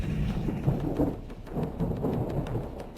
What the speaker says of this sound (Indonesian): Guntur langit.